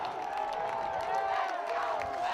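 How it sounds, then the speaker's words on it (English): A men's lacrosse crowd cheers continuously after a goal just before the halftime horn, a dense sustained roar of whoops and shouts. "the Union fans have something to cheer about as we head to the break"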